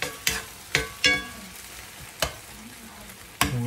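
Fried corn sizzling in a pan, a low continuous fry punctuated by several sharp scraping knocks as a utensil stirs it.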